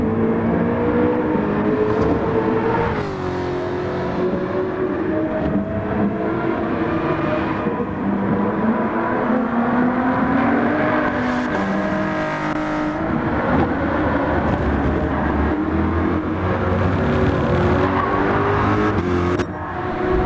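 Several racing car engines in Gran Turismo 7 at Dragon Trail whine and rev continuously, passing by one after another with shifting pitch and occasional tire squeal, loud and sustained.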